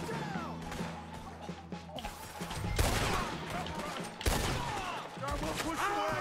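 Gunfire in the video game Red Dead Redemption 2, repeated shots and sharp cracks in a chaotic fusillade with a voice and other game sounds mixed in, loud bursts near the middle.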